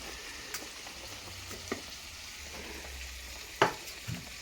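Curry simmering and sizzling in a pan, giving a steady, soft frying hiss with occasional small pops and a clack near the end; no voices.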